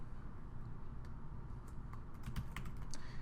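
Someone types on a computer keyboard while entering a customer in business software, with quiet scattered clicks at first, then a quick burst of keystrokes.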